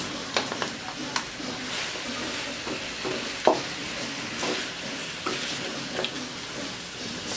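Spicy native chicken adobo sizzling in a pan as it is stirred, a soft continuous fry with scattered utensil scrapes and one sharper clink partway through.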